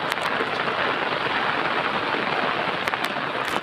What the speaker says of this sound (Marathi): तो आता पण पाऊस आला आहे